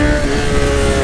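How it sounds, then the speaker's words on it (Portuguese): A Fiat Uno engine with a loud aftermarket exhaust drones steadily and close up, a continuous rumbling roar with no talk. "Eu acho tão bonito o barulho dela com esse escape,"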